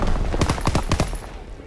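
Rapid automatic gunfire in the World War II shooter Call of Duty: WWII, a burst of loud, close shots in quick rhythm that tails off into battlefield noise.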